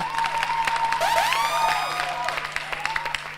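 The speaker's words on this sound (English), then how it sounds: "Please, a round of applause for them." Audience applause fills a live Ghana's Most Beautiful pageant show, a steady dense wash of clapping with bright whistle-like tones rising over it throughout.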